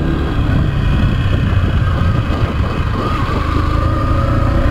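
Yamaha Factor motorcycle riding along a dirt road, its steady engine drone running loud and continuous throughout with rumbling low-end and no speech over it.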